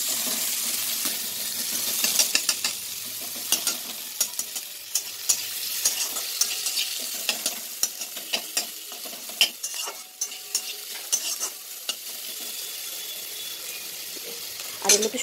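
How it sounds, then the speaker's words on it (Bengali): Onion, tomato and green chilli fry together in a pan, a steady close sizzle broken by frequent sharp stirring clicks and scrapes of the spatula, no talking. "আগে পেঁয়াজটা দিয়ে দিলাম, সবই দিয়ে দেবো, একসঙ্গেই ভাজা হবে"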